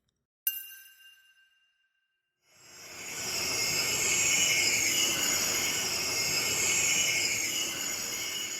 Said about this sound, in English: That's the sound of a gas leak in the basement of a former bar in Wheatley